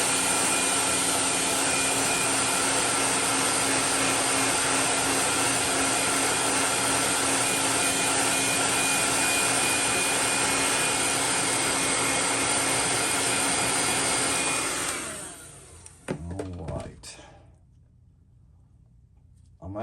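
Heat gun heat-setting fresh paint on a Raid Big Vibe fishing lure, a loud steady blowing roar that runs continuously for about fifteen seconds before shutting off, followed by a few brief handling clatters.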